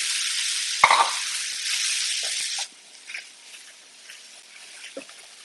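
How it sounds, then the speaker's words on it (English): Onions, mushrooms, garlic and ginger hitting a hot pan for a tofu stir fry, with a loud burst of sizzling that holds for a couple of seconds, then drops to a quieter hiss with occasional spatula scrapes and clicks. "now that that's hot, I'm going to put in my onions, mushrooms,"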